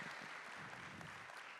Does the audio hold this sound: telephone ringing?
no